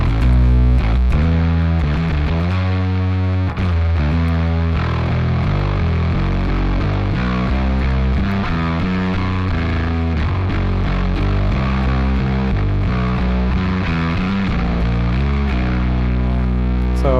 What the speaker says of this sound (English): So let's push the drive on that just so you guys can hear the range.